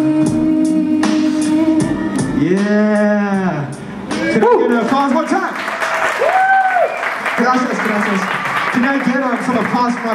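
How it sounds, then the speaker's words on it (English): Applause and cheering from the crowd after a first-time live performance at the Warehouse 508 venue, loud and continuous, with voices calling out over the clapping throughout. "Some applause for my boy Julian."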